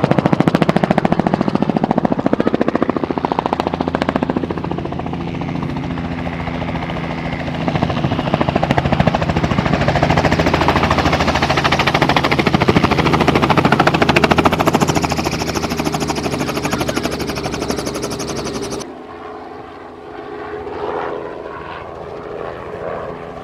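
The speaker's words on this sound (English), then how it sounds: "now we will be going for a heli tour in this helicopter" A tour helicopter close by, its rotor chop and turbine roar loud and continuous for most of the stretch before the noise drops off sharply near the end.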